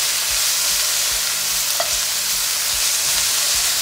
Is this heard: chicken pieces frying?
yes